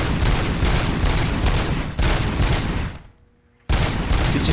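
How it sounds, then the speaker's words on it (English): Rapid automatic gunfire from a weapon in the video game RoboCop: Rogue City, loud dense bursts of continuous shots with a short silent pause before firing resumes. "God, this gun's deadly."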